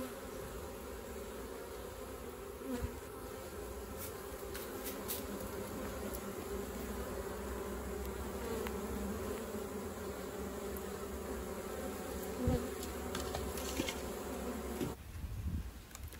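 Honeybees buzz in a dense, steady hum around the entrance of a mini nuc hive, close and constant with no talk, ending in a brief muffled knock.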